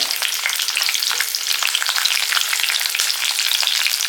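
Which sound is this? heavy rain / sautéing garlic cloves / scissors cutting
sautéing garlic cloves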